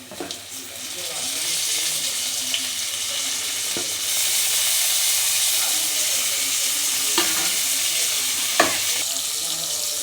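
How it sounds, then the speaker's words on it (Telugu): Tomato pieces for a vegetable biryani fry in a pan with a loud, continuous hiss and sizzle. A few brief clatters of stirring break through the steady frying. "కాస్త టమాటా ముక్కలు వేసుకుందాం దీంట్లోకి"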